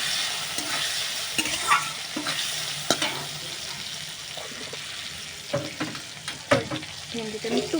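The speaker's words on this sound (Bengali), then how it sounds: "ভেন্ডিটা খুব ভালো করে ভেজে নেব।" Okra frying in a pan with a little turmeric, stirred over and over: a steady close sizzle broken by scraping strokes and sharp spatula clinks against the pan, with no talking.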